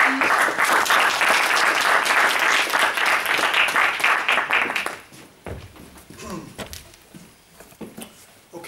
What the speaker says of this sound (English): So a warm hand of applause for Ashish.